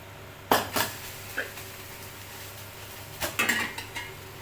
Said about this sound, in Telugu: నేను స్టవ్ మీద పప్పు కోసం అయితే ఒక గిన్నె పెట్టుకున్నాను